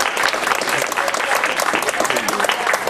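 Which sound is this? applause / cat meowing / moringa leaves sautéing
applause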